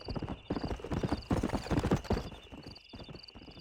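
A stallion's hooves clop quickly and loudly in Red Dead Redemption, a close galloping rhythm mixed with snorts and whinnies, and no voices over it.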